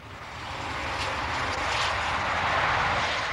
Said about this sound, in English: The world's fastest diesel express, the Intercity 125, the high-speed train